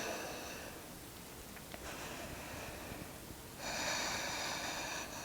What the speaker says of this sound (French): On prend 3 bonnes respirations